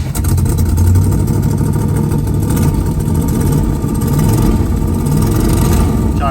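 A 1970 Plymouth Road Runner with a V-code engine, a barn find idle since 1991, runs loud and steady throughout with a deep rumble and swells of revving, close by with no talk.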